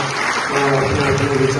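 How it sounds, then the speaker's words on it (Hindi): A crowd claps at a district-level speech competition at a university, with steady dense applause throughout and a murmur of voices underneath. "एक बार दोबारा आप तालियां बजाएं"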